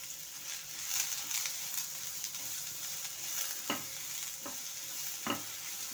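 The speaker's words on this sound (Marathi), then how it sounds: "कांदा आता चांगला ब्राऊन होतोवर आपल्याला भाजून घ्यायचा आहे।" Onion fries in oil for shev bhaji with a constant faint sizzle, broken by a few sharp scraping stirs of a spoon against the pan.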